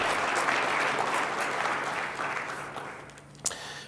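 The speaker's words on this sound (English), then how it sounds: "So let's give them a round of applause." Steady audience applause at a forum, a dense wash of clapping that gradually fades out before a single louder knock near the end.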